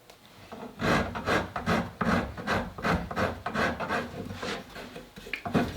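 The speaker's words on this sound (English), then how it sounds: "First we're going to use the fine rasp, and pull that right over the curve" Fine rasp drawn repeatedly across the curved wooden stock of a Browning Citori shotgun, smoothing bandsaw marks: a close, steady series of rough rasping strokes in an even rhythm, with no talk.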